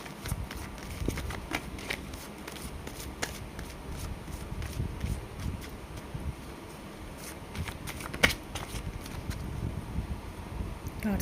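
Tarot cards being shuffled by hand, a steady soft riffling and rustling of cards with scattered small clicks, close and fairly quiet with no talking.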